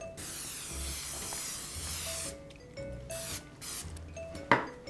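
Cooking spray hisses steadily from a can onto a baking sheet for vegan cookies, a close continuous spray broken by a few short pauses and light clicks.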